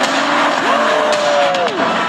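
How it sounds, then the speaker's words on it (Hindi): A Lamborghini engine roars loud and close in Riyadh, a steady high-pitched whine rising and falling in pitch for about two seconds, with tire noise and a car rushing past. "जरा इंजन की आवाज तो सुनो।"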